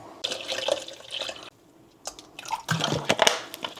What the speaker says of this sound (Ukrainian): Спочатку я налию собі водички пів літра пів літра водички.